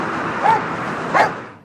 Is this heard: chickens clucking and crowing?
no